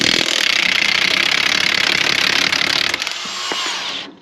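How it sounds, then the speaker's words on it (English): A Craftsman V20 high-torque impact wrench on speed 3 in reverse, with a 7/8 impact socket, hammers rapidly and loudly at a rusty bolt for about three seconds, then the rattling breaks up, whirs freely and stops. "I have a 7/8 impact socket, and we're going to remove this."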